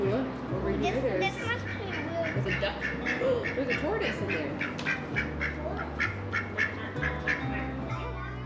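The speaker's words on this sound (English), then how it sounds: "There's a duck." A duck quacks repeatedly at close range on a Houston-area outing, the calls cutting over steady talk from adults and children and a low background hum.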